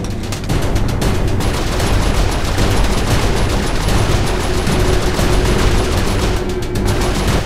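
Sustained turret fire in the action game Saints Row IV, heard as a loud continuous barrage of rapid shots layered over dense battle noise and never letting up.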